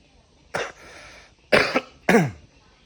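Three sharp coughs, close to the mic, with short pauses between them and a quieter rasp after the first.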